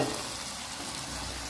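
Vegetables and pipian squash sauté in a pan with a steady, hissing frying sound that stays even throughout, with no voices over it.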